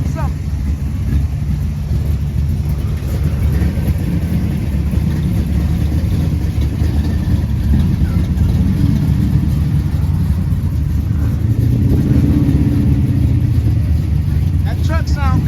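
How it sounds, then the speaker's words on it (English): Truck engine rumbling steadily at a drive-in, a low, continuous motor sound throughout with slight swells, with voices talking over it nearby. "That truck sound good too."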